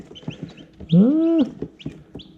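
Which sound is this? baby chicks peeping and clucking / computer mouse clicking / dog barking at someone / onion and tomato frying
baby chicks peeping and clucking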